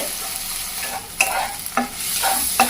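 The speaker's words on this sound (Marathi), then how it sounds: "आता आपण बारीक चिरलेले टोमॅटो परतून घेऊयात" Finely chopped tomatoes sautéing in a pan alongside capsicum, a steady moderate sizzle with a handful of distinct spatula scrapes and taps, near and without voices.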